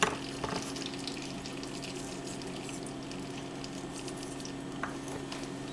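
Salt-and-pepper seasoned steak sears in a hot pan, giving a continuous, even sizzle and crackle at close range, with no talking over it.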